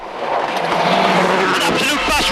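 A Mitsubishi WRC rally car runs a stage at the 2006 Donegal International Rally, its engine roaring loud and close, with a commentator talking over it.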